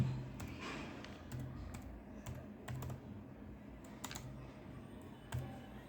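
Fingers tap out a RAM part number on a computer keyboard, a quiet run of light, irregular clicks at close range with short pauses between keystrokes.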